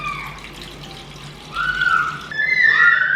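Warm water runs from a tap into a container to be weighed for sourdough dough. A steady close stream rises in pitch as the vessel fills, loud and continuous with no talking.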